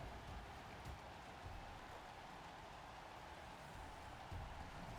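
Steady pouring rain in the Blood Bowl video game hisses softly and evenly throughout, a faint, unbroken wash with no voices.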